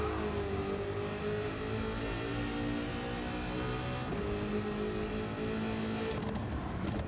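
A Nissan 300ZX with a swapped engine in Gran Turismo 7 revs hard with wheelspin, a loud sustained engine drone holding pitch and stepping up partway through, with no talk over it.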